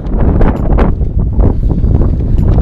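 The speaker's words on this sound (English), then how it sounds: "Let that wind die down a little bit." Strong wind buffets a microphone outdoors in a Las Vegas neighborhood, a loud continuous rumble with gusting swells and no speech.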